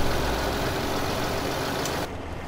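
A big Fendt tractor engine in Farming Simulator 15 runs with a steady, heavy low rumble and constant mechanical drone, loud and continuous before dropping slightly near the end, with no talk.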